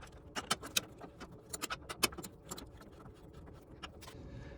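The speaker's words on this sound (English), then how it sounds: "as you tighten down that acorn nut, you want to make sure that the caster wheel is in the locked position, and then a wrench will help" A wrench tightening an acorn nut on the caster wheel of a 36-inch Blackstone griddle, a sequence of quiet, sharp metallic clicks and ratcheting taps coming in uneven bursts.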